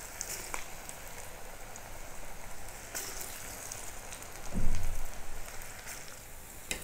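Pakoda batter dropped into hot oil for a Navarathri snack crackles with a steady, dense sizzle, with a few sharper pops and a brief louder splash near the end, no talking.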